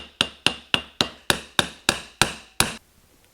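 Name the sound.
whacking pulley onto Trabant engine crankshaft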